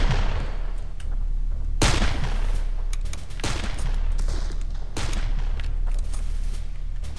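Gunfire in the video game Darkest of Days: several sharp, loud shots crack out at irregular intervals over a steady rumbling background, with no talking.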